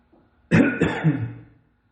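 A single harsh cough bursts out near the middle, loud and close, followed by a brief throat-clearing rasp that fades out, with near silence around it.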